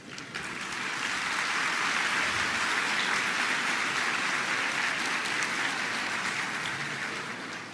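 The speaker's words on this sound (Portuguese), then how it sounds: "As palmas é para o Kardec, né?" An audience at the 6th spiritist congress in Uberlândia claps in a dense, steady, rain-like wash of applause that stays loud and even throughout with no voices over it.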